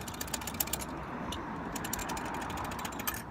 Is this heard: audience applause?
no